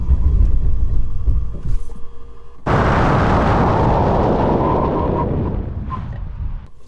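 A 2022 Mercedes-Benz S580 AMG-Line makes a hard braking test stop. After a steady road hum, a loud, abrupt, broadband roar bursts in and holds for about four seconds before tapering off.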